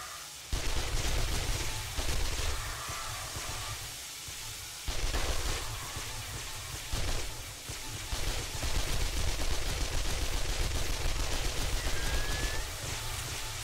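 An automatic turret fires in 7 Days to Die, producing steady rapid shots with some louder bursts, over continuous noisy game ambience and no talking.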